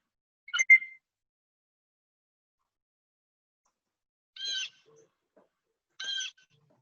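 Blue jay calls recorded outdoors: one brief sharp note, then after a pause two evenly spaced harsh, buzzy calls, clear and moderately close, with no talking.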